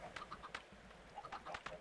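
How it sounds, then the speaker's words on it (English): A large flock of chickens in the video game Minecraft makes a busy, overlapping clutter of soft clucks and short calls, all quiet and continuous. "Whoa, that's a lot of chickens. Must be about 100 chickens there."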